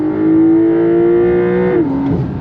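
Porsche 911 GTS in Sport Plus mode revving hard on throttle, a loud close engine note climbing steadily before a sharp PDK gear change drops the pitch and it pulls again.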